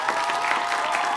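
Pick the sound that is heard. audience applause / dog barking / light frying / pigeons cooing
audience applause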